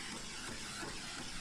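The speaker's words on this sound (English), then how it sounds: "So now I'm going to give it a little torch just to get the last bubbles out." A torch flame hisses over wet acrylic pour paint on bottle caps to pop bubbles, a steady close broadband rush lasting over a second with no speech.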